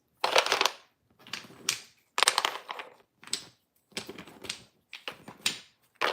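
Tarot cards handled and put away at a reading table: a series of short crisp shuffling and slapping bursts in an irregular rhythm, close and fairly loud, with brief pauses between them and no talking.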